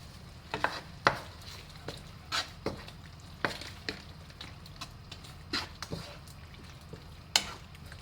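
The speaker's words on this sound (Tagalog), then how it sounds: "Tapos natin igisa, ihulog na natin ang kare-kare mix." Kare-kare mix stirred in a pan for a beef tripe kare-kare, with intermittent spoon scrapes and clinks over a low, steady sizzle and no talking.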